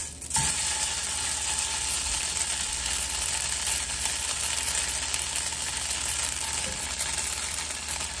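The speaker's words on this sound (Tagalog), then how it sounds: "And then, ilalagay na natin ang ating tofu." Tofu sizzles steadily in hot oil in a home kitchen pan, a continuous loud frying crackle with occasional light stirring clinks, no talk.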